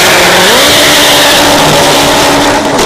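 A Honda RSX drag car roars off the line at a dragstrip, its engine very loud and close as it revs upward in a steady, climbing wail, with no voices.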